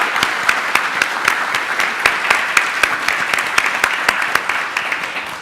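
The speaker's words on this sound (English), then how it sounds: "So if you can help me give them a round of applause." Audience applause after a panel roundtable discussion, with brisk clapping and distinct individual claps standing out in an irregular rhythm, continuing throughout with no talk.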